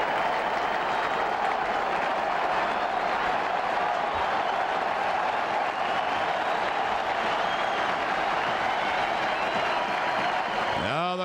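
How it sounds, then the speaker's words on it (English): Dense stadium crowd at a 2000 World Series baseball game between the Mets and Yankees, cheering and swelling steadily as fans rise hoping for a Roger Clemens strikeout, a continuous loud roar with applause throughout. "Crowd rising, rooting for a Clemens strikeout."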